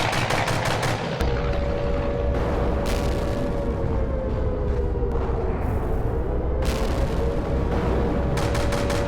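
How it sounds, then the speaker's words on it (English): Rapid bursts of gunfire crackle through an air-raid scene in a school stage play, with dense machine-gun-like volleys and sharp single shots repeating throughout over a sustained background tone. "They're shooting down the street."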